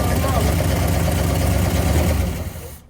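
A 1969 Cadillac's 472 V8 runs loud and close with a steady, rough rumble after a new fuel pump was fitted, then cuts off abruptly at the end.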